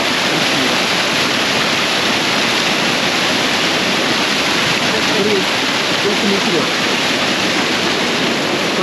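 Loud, constant roar of rushing water, like a waterfall close by, a dense unbroken hiss filling the whole stretch.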